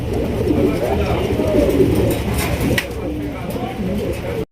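Pigeons at a bird market coo continuously at close range, a dense layered burble of soft throaty calls with a brief sharp knock near the end.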